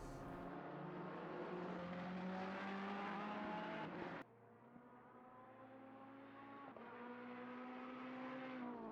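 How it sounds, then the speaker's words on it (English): GT3 race cars lapping the Misano circuit during a championship round, engines droning with steady harmonic tones that shift in pitch as cars accelerate and pass, loud and continuous with a sudden drop in level midway. "Got Engelman, one of the only cars on track here."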